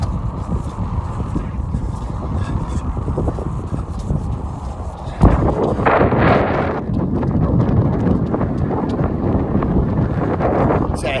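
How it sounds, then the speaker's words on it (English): Strong wind on a seafront buffets the microphone throughout, a steady low roar with gusts that grow louder halfway through. "It's a tad bit windy."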